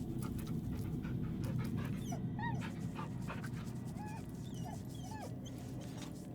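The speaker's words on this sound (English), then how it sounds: "You're a good dog." A dog in the video game Baldur's Gate III pants steadily, with several high whimpers and whines over a constant background ambience.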